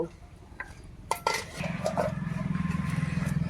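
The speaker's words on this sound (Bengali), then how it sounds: "ঢাকনাটা তুলে নেব" Metal lid lifted off a cooking pan during lentil dal preparation, a few sharp clinks and clatters of metal on metal, followed by a steady low bubbling simmer underneath.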